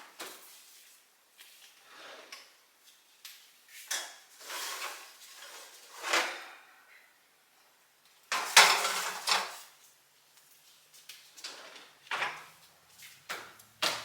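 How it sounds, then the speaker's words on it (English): Custom projector headlights for a 2005 Subaru Forester XT being lifted out of a kitchen oven: irregular clattering clanks and handling knocks of metal and plastic, with one louder clatter midway and no talking. "now that our headlights are ready, we're going to go ahead and take them out of the oven"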